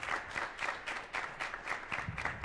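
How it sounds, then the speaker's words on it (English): Students in an audience at a jazz honor band concert clap for their parents, a short burst of pulsing, fairly faint applause with no talk over it. "Students, you're going to clap for your parents now."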